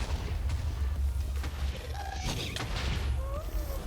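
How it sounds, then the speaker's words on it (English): A ghast fireball explosion in Minecraft, a pair of muffled booms about a second apart over a steady game background. "The explosion can damage the ghast itself."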